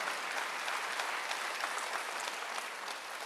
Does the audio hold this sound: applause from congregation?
yes